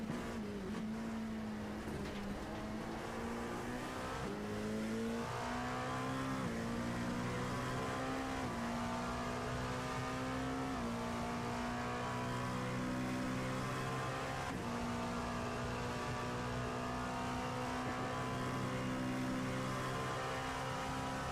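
An LMP2 prototype race car engine heard on board in a racing video game, set at Daytona road course, drones steadily and loudly, its pitch stepping up and down through gear changes with no pauses.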